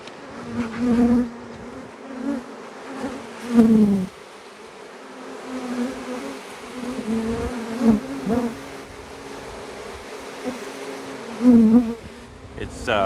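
Honey bees buzz around an open hive during queen cell inspection, a steady droning hum that swells louder several times as bees fly close past, with no talking.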